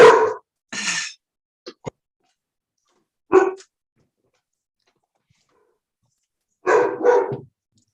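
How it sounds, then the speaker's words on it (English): A dog barks in short bursts indoors, two quick barks, a couple of faint yips, another bark, then a final pair of barks, each loud and close against silence. "Pardon me, that's my dog."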